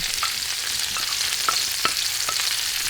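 Shallots hitting a hot pan beside chicken thighs for a raspberry balsamic dish, giving a steady close sizzle with a few soft stirring clicks and scrapes.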